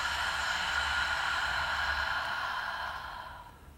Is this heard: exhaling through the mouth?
yes